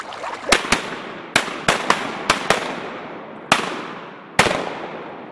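Shotgun blasts ring out on a duck hunt, about ten sharp loud reports in quick irregular bursts, each trailing a short echo, with no talk between them.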